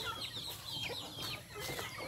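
Small chicks in a farm chicken pen cluck and cheep in a continuous close chorus, with no voices over it.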